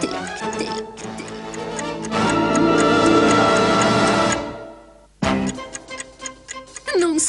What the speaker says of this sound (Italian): Non senti questo dolce ticchettio?